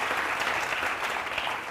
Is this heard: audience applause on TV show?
yes